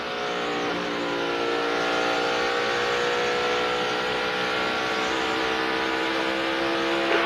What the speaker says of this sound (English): I want you to listen to his throttle going through the corner.